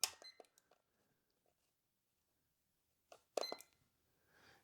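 A gym wall timer gives a few short electronic beeps as it is set to 5 minutes, sparse faint chirps in two small bursts separated by near silence.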